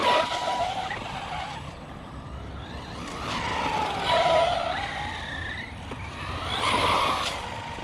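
An Arrma Mojave 4S RC car runs at full throttle, its electric motor whining and rising and falling in pitch in repeated passes, with tires scrabbling over the ground and no talk.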